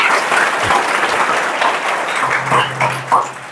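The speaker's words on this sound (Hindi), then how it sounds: "एक बार जोरदार तालियां हो जाए भाई इसके लिए।" A school audience at DPS Public School Lambhua breaks into loud, continuous applause, a dense wash of many hands clapping with slight swells and dips throughout.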